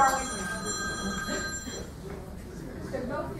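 A mobile phone rings with a steady electronic tone through the first half, partly under someone talking in a lecture hall setting.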